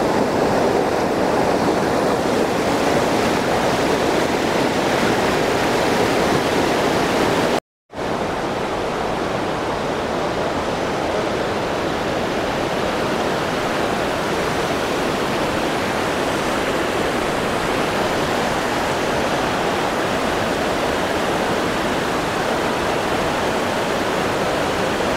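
A clear stream at a riverside camping spot in the hills, with bamboo footbridges nearby, gives a steady, loud, broadband rush of flowing water that continues throughout with only a brief gap and no voices.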